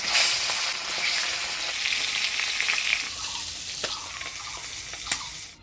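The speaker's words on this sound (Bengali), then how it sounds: "আমি অল্প তেল দিয়ে কয়েকটা গোটা এলাচ আর অল্প জিরা ভেজে নেব" A few whole cardamom pods and some cumin seeds fry in a little oil for a fish curry, giving a loud, bright, crackling sizzle that eases off toward the end, with a couple of light clicks.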